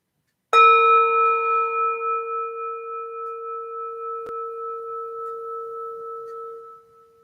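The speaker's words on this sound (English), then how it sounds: "I'll go ahead and ring the bell to signal the start of our sit together" A meditation bell is struck once, starting a mindfulness sit; its clear, sustained ring sounds close and alone in a quiet room, decaying slowly over several seconds with a faint tap partway through.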